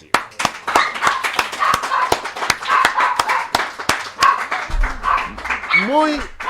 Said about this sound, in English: A great big applause for this new year